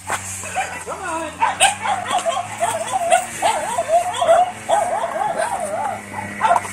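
A white short-haired dog yips, whimpers and barks in quick, restless bursts close by outdoors, with voices mixed in around it.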